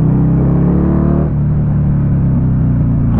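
A Buell XB9S roadster fitted with a Harley-Davidson engine rumbles loud and close while riding, a steady deep engine drone that eases slightly partway through, with no talk.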